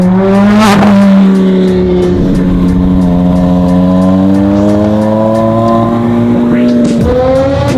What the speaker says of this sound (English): Oh, your brakes are squealing